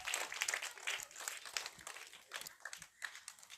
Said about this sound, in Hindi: बिल्कुल सही जवाब, ताली बजाइए